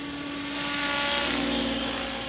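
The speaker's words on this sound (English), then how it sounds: "every now and then you get lucky and a helicopter just flies great out of the box" XL Power Nimbus 550 RC helicopter in flight, a steady whining rotor and motor drone with a strong constant tone, holding nearby and fairly loud for a couple of seconds with no talk.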